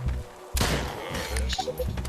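A grenade blast in the video game Drop Dead Dual Strike: one sudden, heavy thud-like burst partway through, followed by fainter game noise and a few short tones.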